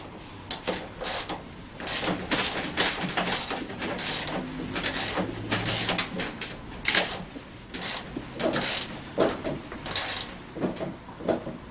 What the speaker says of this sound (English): This is 11/16 and a 14mm ratchet. I'll go ahead and Crank this thing down some.